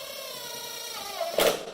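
A brief drill whir with a rising mechanical whine, ending in a short burst of grinding as a wall anchor bites into drywall.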